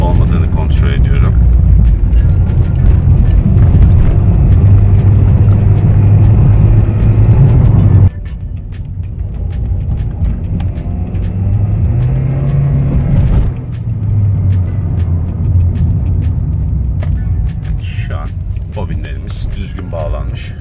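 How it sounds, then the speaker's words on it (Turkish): Honda Jazz engine revving under load during a misfire check after fitting DTS ignition coils, a steady loud low rumble that shifts in pitch as revs rise and fall, with a brief drop partway through. "Şu an biraz yükleneceğim. Motora tekleme olup olmadığını kontrol ediyorum."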